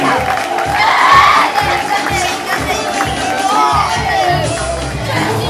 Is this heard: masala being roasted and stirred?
no